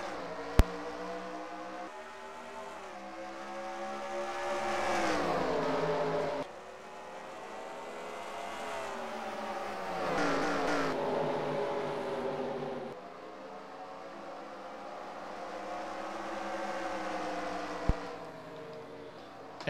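Several race cars roar around the short Bristol oval in a stock car racing video game, engine notes rising and falling in long sweeping passes, loud and continuous with brief sharp clicks.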